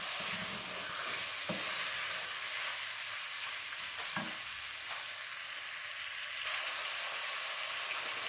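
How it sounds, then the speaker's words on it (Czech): Pork with ground spices stirred in a frying pan, a continuous bright sizzle with a few soft scrapes of the utensil against the pan, heard alone at moderate level. "Teď to promíchám."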